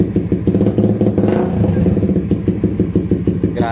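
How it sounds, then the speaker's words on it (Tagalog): A Raider 150 FI motorcycle fitted with an HGM exhaust pipe held at half revs, giving a loud, steady, throaty engine drone with a rapid pulsing beat, recorded up close throughout. "Try natin i-half rev."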